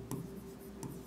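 Writing on a board during a chemistry lecture on atomic structure, heard as two brief scratchy strokes under a faint room hum.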